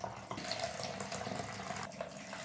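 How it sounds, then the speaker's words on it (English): Water at about 20 degrees pours steadily into plastic measuring jugs for film developing, a soft continuous splashing trickle, faint and close, with no voices. "So I put 400 millilitres into each jug."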